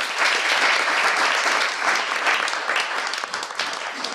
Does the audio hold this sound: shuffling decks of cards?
no